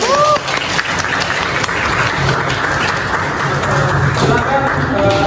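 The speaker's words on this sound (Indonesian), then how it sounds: "Berikan tepuk tangan untuk kelompok 1." Classroom applause for a student group after its presentation, a loud continuous burst of clapping with a few voices calling out over it.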